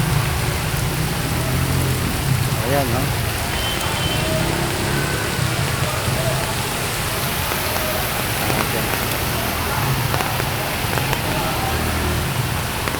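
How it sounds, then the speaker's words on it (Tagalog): Heavy rain pours steadily amid flooding with a dense, hissing roar, while a person speaks briefly over it. "patuloy pa rin po ang buhos ng ulan"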